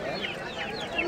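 A chicken clucks in short soft bursts at a busy bird and animal market, close by but fairly quiet amid background chatter.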